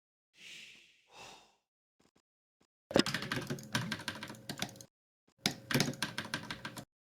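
After a couple of breaths, two close bursts of rapid typing clatter on a computer keyboard, separated by a brief pause.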